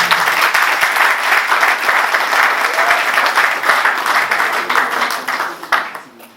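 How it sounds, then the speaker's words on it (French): An audience at a symposium in a parliament hall breaks into loud, sustained applause with dense clapping and some crowd noise, fading at the end. "Je vous demande d'abord d'applaudir"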